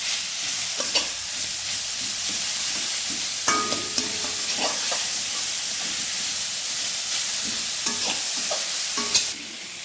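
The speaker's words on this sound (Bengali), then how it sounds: "দিয়ে জাস্ট পেঁপেটাকে একটু হালকা ফ্রাই করে নেব।" Grated raw papaya frying lightly in hot oil, a steady close sizzle broken by several scraping stirs of a spoon through the pan.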